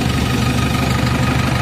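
A JCB machine's diesel engine, being checked for an oil leak at the turbo, runs at a loud, steady idle close by, a continuous low rumbling throb.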